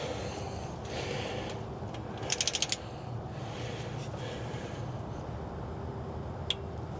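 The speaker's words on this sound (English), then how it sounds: "heard it click that time." Axle cover bolts on a Jeep Gladiator's Dana 60 axle are being tightened. A quick burst of about five sharp clicks stands out midway, and one lone click comes later, all over a low, steady background rumble.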